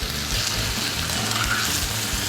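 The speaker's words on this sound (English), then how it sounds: "it's just really getting a nice sizzle on it right now" Meat seasoned with turmeric sizzles in a hot pan during a Moroccan cooking session, giving a steady, close hiss of frying with no talk.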